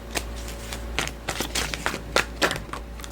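Tarot cards are shuffled and drawn close by: a quick run of crisp riffles, flicks and soft slaps of card stock, irregular bursts with small pauses between.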